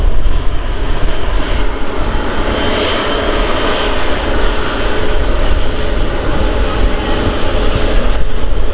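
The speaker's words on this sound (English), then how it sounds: "Getting a very nice view there of Airbus's latest twin-engined wide-body offering" An Airbus twin-engined wide-body jet airliner at Manchester Airport, a loud, steady, broadband engine roar filling the whole span, close by and with no talking.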